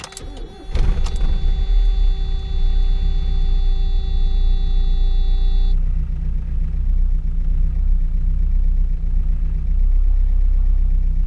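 A Miata engine, just after timing work, cranks and fires up, then idles with a loud, uneven low rumble that continues steadily, close to the listener.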